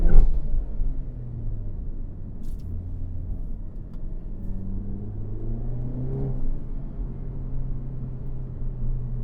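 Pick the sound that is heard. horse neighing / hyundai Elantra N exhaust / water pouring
hyundai Elantra N exhaust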